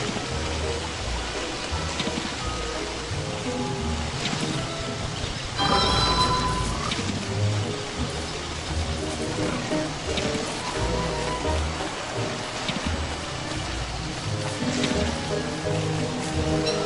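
Steady rain falls in the Don't Starve video game, a dense hiss of game-world downpour running throughout, with a brief louder swell partway and faint game sounds mixed in.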